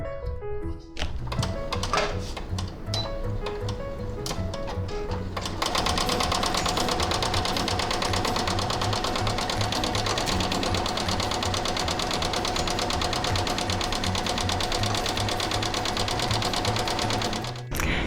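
A sewing machine stitches fabric for a scrunchie, starting with a few slow, separate needle strokes, then settling into a fast, even, continuous mechanical chatter that runs loud and close until it stops near the end.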